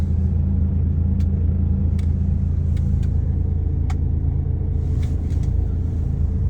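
A DAF XF105.460 tractor unit with about 1,084,000 km on it idles steadily and evenly, a constant low diesel rumble with no surges, heard close and alone with a few faint clicks over it.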